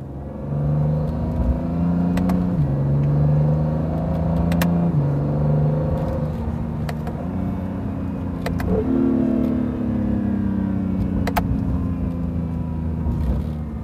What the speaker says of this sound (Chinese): 我们来体验一下它这个九速的双离合器啊，看看它整个加速的过程呢